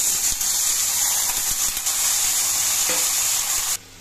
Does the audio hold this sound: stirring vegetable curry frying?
yes